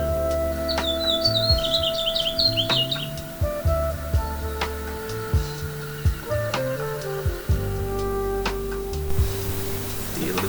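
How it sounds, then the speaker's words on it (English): A house finch chirping at a smart bird feeder in a backyard, a quick burst of bright twittering notes early on, set against close rubbing and knocking sounds from the feeder and steady background hum. "House finch."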